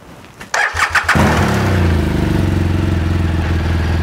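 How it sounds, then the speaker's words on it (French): An engine cranks with a few rapid clattering turns, then catches and settles into a steady, loud idle that continues evenly to the end, close by with no voices. "Voilà que le moteur est allumé."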